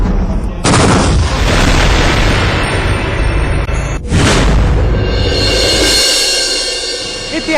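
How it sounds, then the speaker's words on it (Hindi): Indian Army artillery guns fire shells in two massive, loud blasts, each followed by a long rumbling roar that fills the space before the echo fades. "आग उगलते ये बारूदी तोपें, ये हिंदुस्तान की ताकत की झलक भर।"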